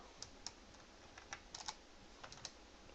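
Faint, irregular keystrokes on a computer keyboard, a scattering of soft clicks with short pauses between bursts.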